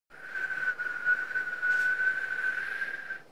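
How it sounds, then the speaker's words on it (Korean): A breathy, airy whistle attempt held steadily for about three seconds: a thin tone barely rising out of rushing blown air. "휘파람 아니고 그냥 바람 아니냐?"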